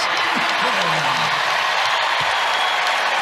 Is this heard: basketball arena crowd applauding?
yes